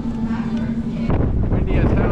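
Strong, warm wind blows outdoors, roaring as steady broadband noise against the microphone, with a louder gust partway through.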